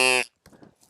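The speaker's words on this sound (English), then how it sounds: "If you were just going to blow into a duck call, it would sound like a kazoo." Duck call blown straight without tonguing, a brief buzzy kazoo-like tone lasting a fraction of a second, close, followed by a short spoken word.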